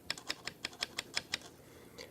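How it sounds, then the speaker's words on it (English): A small screwdriver taps on steel on a Nikon FG film camera, giving eight crisp, evenly spaced metallic clicks close up, then one softer tap after a brief pause. "So I've got my little screwdriver here, and if I tap on the steel, you'll hear it click."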